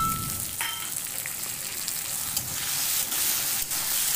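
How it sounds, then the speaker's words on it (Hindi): Tomatoes go into a hot pan and fry with a steady, close sizzle and soft crackle throughout, a faint utensil tap near the start, no talking. "तो देखिए अब मैं इसमें टमाटर डाल दी"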